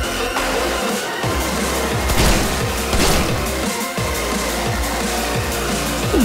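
Dense volleys of gunfire from demon flying turtles in the game Paranautical Activity, rapid repeated shots and booms layered over a steady loud game soundtrack, continuous with no pauses.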